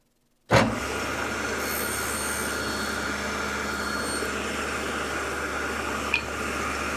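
A miter saw spins up suddenly after a moment of silence and holds a steady, loud motor whine while cutting plexiglass frame pieces, with a short sharp tick near the end.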